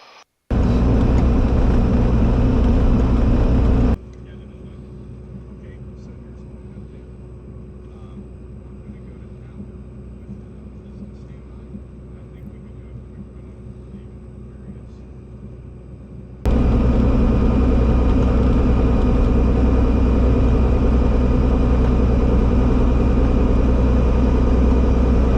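Cirrus SR22 G6 GTS single-engine piston aircraft taxiing, its engine a steady loud rumbling drone that drops to a quieter, smoother idle hum for a stretch before surging back to full volume.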